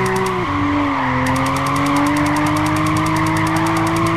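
Toyota Aristo drifting in Gran Turismo 5: a loud, sustained engine drone with a brief shift dip, overlaid by steady pulsing tire squeal through the slide, close and continuous with no talking.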